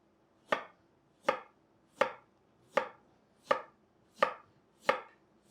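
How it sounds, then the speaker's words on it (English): A knife slices potatoes thinly for homemade chips: seven crisp, evenly spaced cuts on a board, close and clean, with quiet pauses between them. "we're gonna just use a knife, and we're gonna make some really thin cuts"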